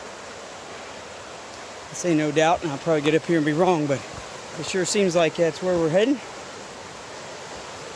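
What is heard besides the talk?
stream flowing toward the Kennebec River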